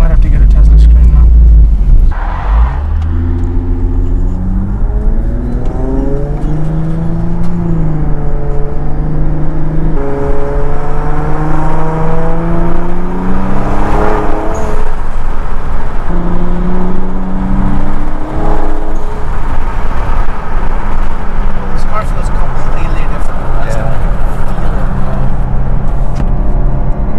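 A 1000-horsepower Infiniti Q50 Red Sport accelerates hard on the street through repeated gear pulls, its engine note climbing in rising sweeps that drop at each shift, loud and close from inside the cabin while people talk.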